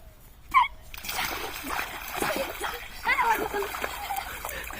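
A child throws something into river water, making a sharp splash followed by sloshing and trickling, while voices talk nearby.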